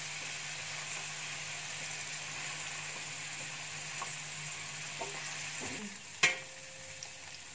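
Paneer cubes fry in oil in a kadhai with a steady, close sizzle throughout, a few soft utensil knocks, and a sharper clatter near the end as the golden-brown pieces are turned or lifted out.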